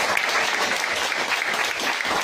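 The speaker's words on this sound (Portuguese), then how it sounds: "uma salva de palmas ao Senhor" A church congregation gives a round of applause to the Lord during a Bible study service, a loud, dense burst of many hands clapping together for a couple of seconds, close and continuous.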